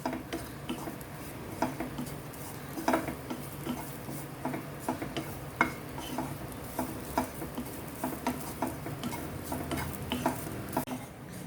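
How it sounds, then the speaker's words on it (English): Grated coconut fries in a pan for a Maharashtrian misal pav recipe, a faint steady sizzle under repeated soft scraping taps of a spoon stirring against the pan, with no voices. "Fry this coconut until the color changes or it becomes light brown in color."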